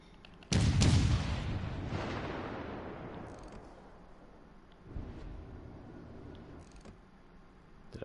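Battleship main guns fire in the naval game World of Warships: one loud, deep blast that rolls off over several seconds, then a second, softer boom later in the clip.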